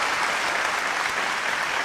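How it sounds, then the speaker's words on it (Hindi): An audience at a poetry performance in Dubai bursts into loud, dense applause, with steady clapping filling the space without a break. "एक बार जोरदार तालियां"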